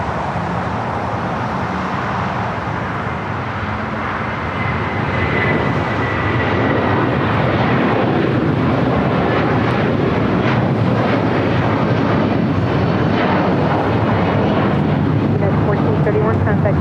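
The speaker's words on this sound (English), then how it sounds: "Next takeoff here on the south side, United Airlines Flight 1431 heading to Honolulu." A United Airlines Boeing 757-300 takes off for Honolulu from the south side at LAX, its broad engine roar building loud and continuous, with some radio-style talk over it.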